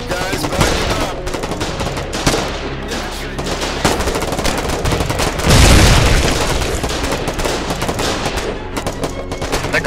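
Rapid gunfire and booming blasts in a Foxhole online battle with armored vehicles, dense bursts of machine-gun fire throughout with a heavy explosion near the middle, loud and close.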